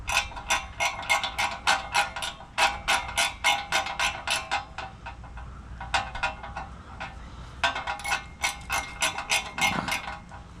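A ratchet snugs bolts back down on a Briggs and Stratton generator, giving fast bursts of sharp metallic clicking in repeated rhythmic strokes with short pauses between, close by.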